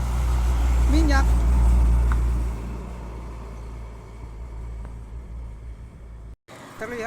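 An oil tanker truck passes on a road in Cilacap, Indonesia: a heavy, low engine rumble is strong for a couple of seconds and then drops away to quieter background traffic as someone speaks.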